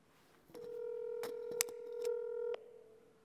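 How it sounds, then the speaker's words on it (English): Touch-tone telephone keypad dialing, a series of steady dual-tone beeps held close and fairly loud, running about two seconds with a brief sharper click midway, and no voices. "I got to make a phone call here."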